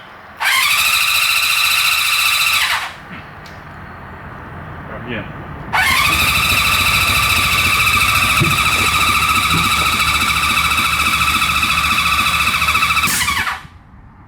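A Honda CB350F motorcycle with the choke on cranks on its starter in two long, loud whirring bursts separated by a pause, and people talk briefly between attempts.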